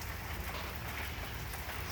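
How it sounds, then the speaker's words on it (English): Rain falls steadily in California as an even, faint hiss of drops with no breaks and no voices. "the rain is much needed"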